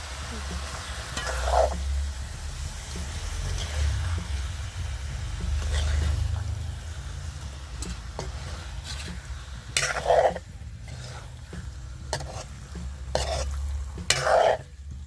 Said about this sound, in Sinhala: අපි මේක ටිකක් තැම්බෙනකම් මේ විදිහට විනාඩි 5ක් 6ක් විතර කවලම් කරගෙන ඕන.